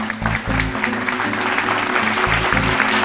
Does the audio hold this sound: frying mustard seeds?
no